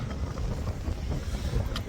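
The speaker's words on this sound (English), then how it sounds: "The boat's rocking away." A boat rocks on open ocean water, heard as a steady low rush of wind and water with microphone wind buffeting throughout and no speech.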